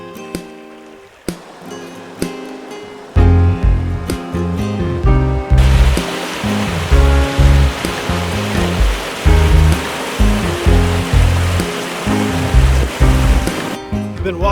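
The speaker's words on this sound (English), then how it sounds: "All right, I made it back to the river." Water of the Hassayampa River rushes and splashes in a wilderness setting, a loud continuous broadband roar close by with irregular bursts, plus some bumping and handling noises near the start.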